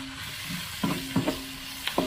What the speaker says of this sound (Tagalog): Maluto na yung ating bawang sibuyas luya.